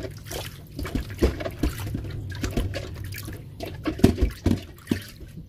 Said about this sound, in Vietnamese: nên bây giờ mình rửa kỹ, mình kỳ vào cái phần trong cái bẹ cho nó sạch luôn